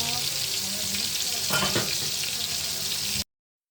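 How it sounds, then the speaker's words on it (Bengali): Fish frying in a pan in preparation for a curry with yardlong beans, a loud, steady close sizzle with a brief burst of stirring near the middle before it cuts off. "মাছ ভাজি করে তরকারি রান্না করে"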